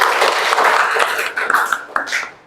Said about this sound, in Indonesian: Tepuk tangan dulu kalau menyenangkan